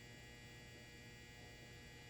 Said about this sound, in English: Anyway, that's my dryer.